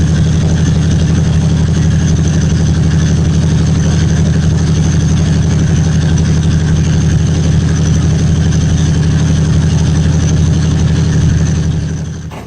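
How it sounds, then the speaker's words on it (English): A cold diesel locomotive engine runs loud and close after starting up, a heavy steady low rumble that continues unchanged throughout before fading slightly at the end. "When a diesel locomotive first fires up, the engine is still cold."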